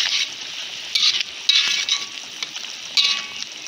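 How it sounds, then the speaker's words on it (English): A spoon stirs sambal prawns and onions in a pan, several scraping, clinking strokes over a light frying hiss, close and alone without talk. "Give it a stir."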